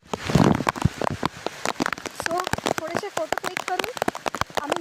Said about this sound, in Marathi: जोरातच पाऊस आलेला आहे